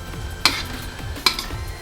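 Meat is stirred in a wok over a low sizzle, with two sharp metallic scrapes of a utensil against the pan about a second apart.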